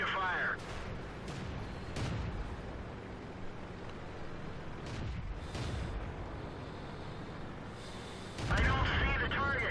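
The gun of an M24 Chaffee tank fires in World of Tanks on a tundra map, heavy booming blasts over a constant low engine rumble, with a loud shot near the end and a voice speaking in places.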